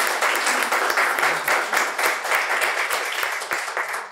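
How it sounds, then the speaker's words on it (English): An audience claps in a round of applause for the speakers at a winter conversation event, a dense steady patter of many hands lasting throughout without speech. "Let's give a round of applause."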